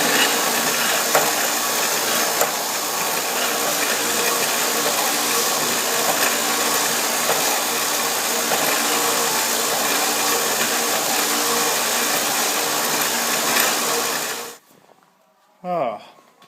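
A line boring bar grinds steadily through a steel tractor axle bore, a continuous loud mechanical whir with faint ratcheting texture that runs unbroken for most of the stretch before cutting off abruptly near the end, followed by a short bump of handling noise.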